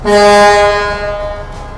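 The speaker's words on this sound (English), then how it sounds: "and my air horn" A loud, brassy truck air horn sounds close by in one sustained blast, with its tone shifting slightly as it holds.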